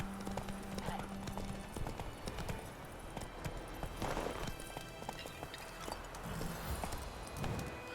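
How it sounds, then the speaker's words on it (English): A horse gallops in The Witcher 3 video game, with a steady rhythmic clip-clop of hooves close by. Background game sounds run underneath, and a voice speaks briefly. "Run, Roach"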